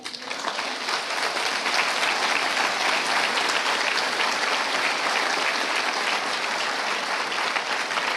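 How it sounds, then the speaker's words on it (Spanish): A church congregation breaks into loud, dense applause, a steady roar of clapping that holds evenly for several seconds without letting up. "Dale un aplauso a Él."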